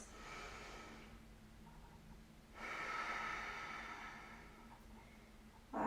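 Slow, audible breaths during a beginner yoga class, a long airy exhale followed by a stronger inhale-exhale, close and soft, with no talking.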